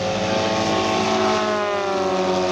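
Remote-control Boeing Stearman biplane model in flight at an airshow display, its engine a steady loud drone with a nasal, slightly wavering propeller pitch held close throughout, with no voices.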